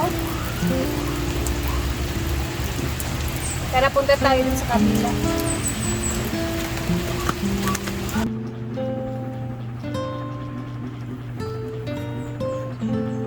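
Rain falls steadily on a farm, a continuous patter under a voice and background music, with louder drips and clatter midway before the sound thins and the music carries on.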